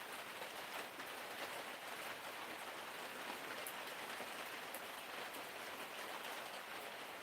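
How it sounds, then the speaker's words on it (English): Steady Oregon rain falls in a constant soft hiss of drops on surfaces, even and unbroken throughout, heard at a distance with no voices. "Yes, it is typical Oregon rain you hear in the background."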